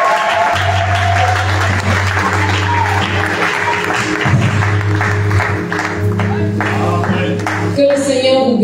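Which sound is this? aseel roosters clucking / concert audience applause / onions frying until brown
concert audience applause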